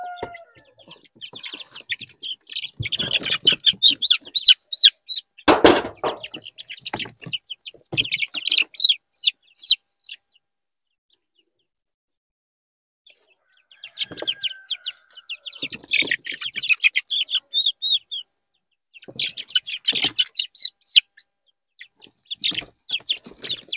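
Young chickens in a brooder house chirp and cluck in bursts of high, rapid calls, close by, with a sharp knock partway through and a quiet pause before the chatter resumes.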